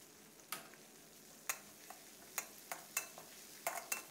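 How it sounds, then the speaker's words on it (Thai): Coarsely pounded chili and garlic stir-fried in oil in a pan for glass noodles, with sharp spatula scrapes at irregular intervals over a soft, steady sizzle and no talk. "ใส่พริกกระเทียมที่เราโขกหยาบนะครับผัดให้แตกกลิ่นหอมเลยครับเพื่อน"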